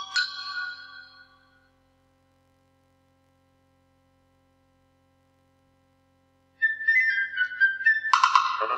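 A cheerful tune is whistled, in the setting of Snow White and the Seven Dwarfs: a bright, clear melodic phrase, then a pause of silence, then the whistling resumes more loudly and continues to the end.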